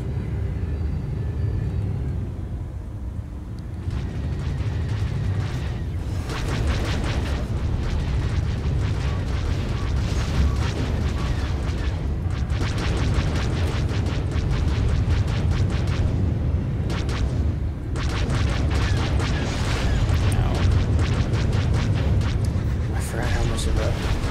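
Missiles explode again and again in a Star Wars Galactic Starfighter space battle. Deep booms and rumbling blasts stack up over a constant background of game noise for the whole stretch.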